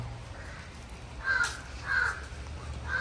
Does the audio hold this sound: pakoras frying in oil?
no